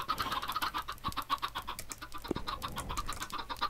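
Minecraft chickens clucking close by in quick, overlapping bursts, a small flock of chirpy fowl calls repeating steadily with no talking over them.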